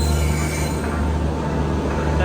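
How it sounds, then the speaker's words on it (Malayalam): Grand Trunk Express, Chennai Egmore to New Delhi, pulling into the platform, a steady low rumble of rolling wheels and carriages with a constant deep hum, close and continuous throughout. "ഇതാ Chennai Egmore New Delhi grand trunk express കടന്നു വരികയാണ്"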